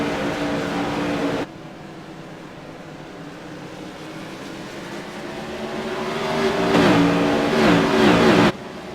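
Modified race cars run at USA International Speedway. Engines drone loud and steady with a rising pitch as the cars pull past, and a louder burst of revving swells near the end, with no talk.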